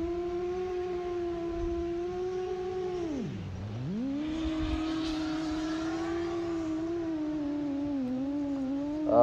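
An X8 DIY drone flying with a steady buzzing motor whine that dips sharply in pitch once and then climbs back, fairly close and unbroken, with no talk.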